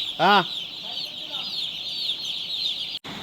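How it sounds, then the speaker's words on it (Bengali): Chickens in a brooding house, one loud clucking call near the start followed by softer scattered clucks over a constant high-pitched hum. "মুরগি সব বের হয়ে গেছে"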